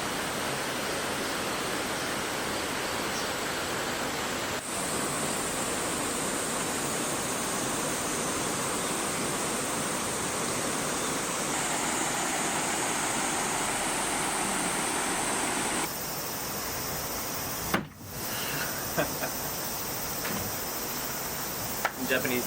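A river flows near a Hakone hot spring resort, its steady broadband rush continuous and close throughout, with only a brief dip and disturbance near the end.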